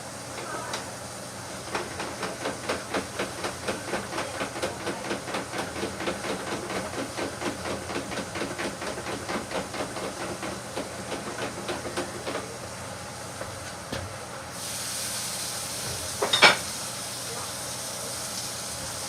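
Fresh potato french fries hit a café fryer with a sudden, steady steaming sizzle in the last few seconds. Before that, a quiet rhythmic mechanical clatter repeats in the background.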